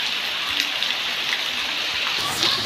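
Floodwater overflowing through a city street in Semarang, Indonesia, after heavy rain, heard as a steady, dense rushing wash with scattered splashes, continuous and fairly loud with no talking.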